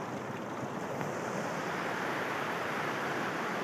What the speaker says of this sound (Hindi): ये पानी का शोर, क्या बात है।